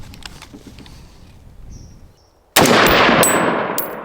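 A rifle with a short 11.5 inch barrel and birdcage flash hider, unsuppressed, fires a single sharp, very loud shot after a quiet outdoor lull, its blast ringing out and decaying over the following second.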